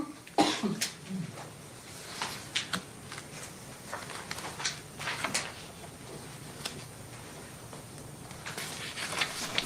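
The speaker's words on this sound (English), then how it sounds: "Oh, he just coughed." A man coughs several times in a quiet room, short sharp bursts scattered across the stretch, with faint shuffling and small handling noises between them.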